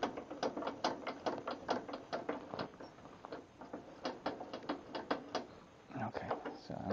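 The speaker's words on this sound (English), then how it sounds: "Let's lower the blade." A crank mechanism lowers a table saw blade, giving a rapid, steady series of close clicking and ratcheting taps that runs the whole time, with slight pauses near the end.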